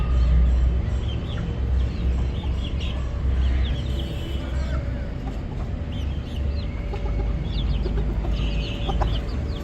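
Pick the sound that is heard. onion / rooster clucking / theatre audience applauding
rooster clucking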